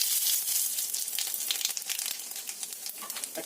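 Black cumin seeds tempering in a little hot oil in a wok, a close, bright, crackling sizzle with fine popping that gradually softens.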